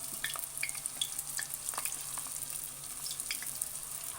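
Pieces of leftover samosa dough fry in hot oil, giving a quiet, continuous crackling sizzle dotted with small sharp pops.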